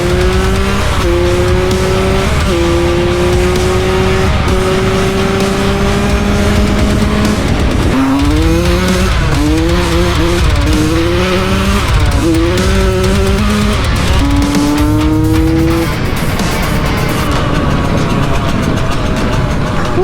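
A Yamaha YZ85 dirt bike engine revs loud and close, its pitch rising and falling through repeated throttle blips and sustained high-rpm pulls, with no talking.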